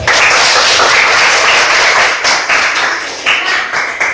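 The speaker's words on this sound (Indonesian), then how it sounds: "Tepuk tangan untuk kalian semua dulu." Schoolchildren in a science class applaud together, a loud, dense wash of many clapping hands that is sustained and steady, with slight surges, and no talk.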